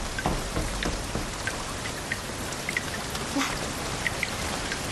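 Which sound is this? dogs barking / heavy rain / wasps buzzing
heavy rain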